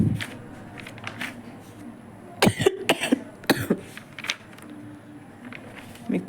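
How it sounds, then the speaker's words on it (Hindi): Several sharp coughs in a quick cluster from a nearby person, with softer breaths and small movement noises around them in a quiet room. "मेरे को हो रही है बहुत सारी खांसी"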